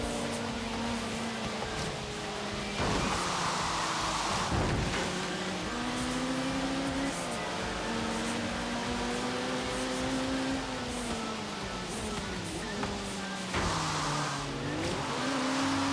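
A BMW M3 E30 in Forza Horizon 3 races along, its engine droning and shifting pitch through gear changes, with bursts of tire squeal and revving on corners, loud and continuous.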